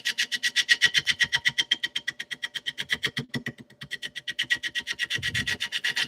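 A roughing gouge cuts cherry wood spinning on a lathe at about 500 RPM, a fast rhythmic rasping pulse repeating several times a second, close and loud, with one brief break before it resumes.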